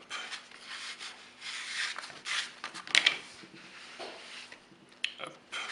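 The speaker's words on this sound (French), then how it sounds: "c'est l'étirer un peu et la replier sur elle-même." Sourdough bread dough being stretched and folded over on itself by hand, giving soft rubbing, squishing and slapping sounds close by in irregular bursts, with a couple of sharper sticky pops.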